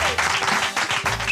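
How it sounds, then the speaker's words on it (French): Studio audience clapping for a contestant on a French dating game show, a short dense burst of applause with faint background voices mixed in. "Applaudissements pour Pascal!"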